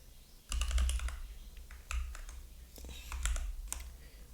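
Keys on a computer keyboard being typed in three short clusters of quick, close clicks separated by brief pauses, over a low steady hum.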